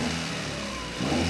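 A Honda Civic Nouva B16A engine is blipped briefly, a short mid-pitched rev that rises and settles, heard close up with no talking.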